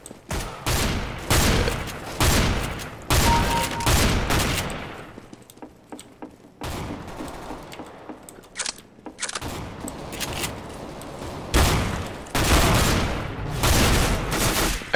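Rapid assault-rifle bursts and volleys of gunfire in Counter-Strike: Global Offensive Arms Race mode, loud repeated fusillades with short pauses between exchanges.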